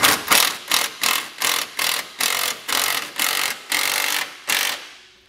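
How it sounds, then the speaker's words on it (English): A 19 mm socket on a ratchet wrench snugs down the bottom bolts of a Roadmaster base plate kit on a 2021 Chevrolet Spark. It makes about eleven loud, close, evenly spaced ratcheting bursts, then stops. "we wanna snug down these bottom bolts first. So I'll use a 19 millimeter socket and wrench to get that done."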